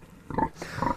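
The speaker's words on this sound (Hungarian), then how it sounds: "Hát ő a fiamnak a disznója. Méghozzá mangalica durok keverék." A Mangalica-Duroc cross pig gives two short, close grunts in quick succession, fairly loud against a quiet farmyard background.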